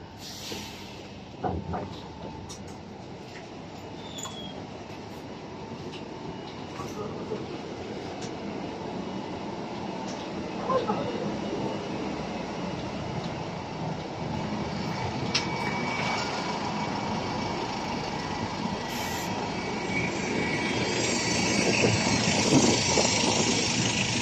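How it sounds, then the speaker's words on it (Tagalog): Metro train at a subway station: a steady rumbling drone with rail noise and faint squeals that slowly grows louder across the span, heard fairly close with no voices. "Ito na yung metro station."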